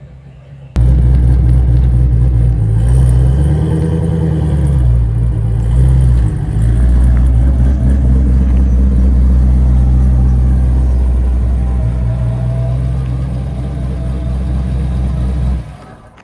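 A 1970 Chevelle SS driving down the road, a loud, deep, steady engine rumble heard from inside the car with a brief rise and fall in revs early on, continuing until it cuts off near the end.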